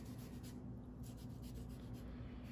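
Sharp kitchen knife peeling the skin off a tomato, a soft continuous scraping and rubbing close by, steady and quiet throughout with no talk.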